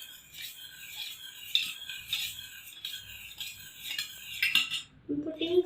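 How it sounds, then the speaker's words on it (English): A spoon mixing pani puri masala in a bowl, with steady metallic scraping and clinking against the sides, close and unbroken by speech. "To put 1/2 spoon of pani puri masala, and I am mixing it."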